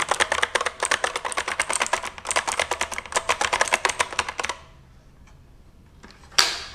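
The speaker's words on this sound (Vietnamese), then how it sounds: "Ở đây thì mình sẽ để gần cho các bạn nghe tiếng của bàn phím." Rapid clicky typing on a K880 mechanical keyboard with blue switches, a close, even stream of sharp keystrokes that stops partway, followed by a few stray clicks and a louder knock at the end.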